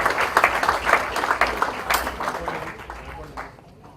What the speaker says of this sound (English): A big round of applause to Spice for this new initiative.